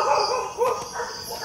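A dog at a cemetery in Singapore gives a few short barks and yips at moderate distance in a quick irregular burst.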